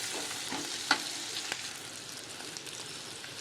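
Pirandai (adamant creeper) sautéing for chutney gives a steady, moderate sizzle with a few sharp clicks of stirring, one louder scrape near the start, and no voices.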